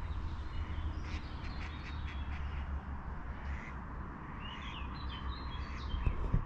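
Ducks quack at a park pond with an islet and a pier, their short calls scattered at a middle distance over a steady low outdoor rumble, with no one talking.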